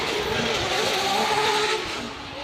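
Drift car at a Wall track qualifying event, engine roaring continuously with screeching tires through a transition, loud and sustained, with a commentator's voice faintly underneath.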